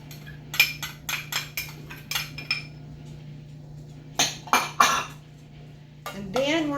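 Oat burger mixture with sage, marjoram and thyme being mixed in a bowl, a run of sharp clinking utensil strikes against the bowl in uneven bursts with quiet pauses between, close by, no talking.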